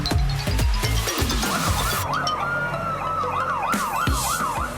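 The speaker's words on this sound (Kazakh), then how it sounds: "Вау, Даша, қара, бұл өрт сөндіру көлігі." A toy or cartoon fire truck siren wails in rising and falling sweeps, loud and close, preceded by a few clattering knocks, with no talk.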